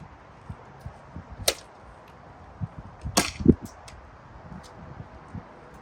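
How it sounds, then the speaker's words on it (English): Two sharp pops from a Dart Zone Pro Mk 1.2 foam blaster launching Active Strike Mega darts, a couple of seconds apart, each with a quick whoosh and a faint thud after, in a quiet room with light handling noise. "we're going to fire a couple of the Active Strike Megas out of the muzzle here and see how that goes"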